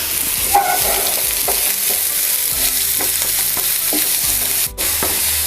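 Finely chopped onions and green chili sizzle in hot oil in a pan for a Tamil mushroom pepper fry, a constant close crackle broken by repeated scraping stirs of a spatula.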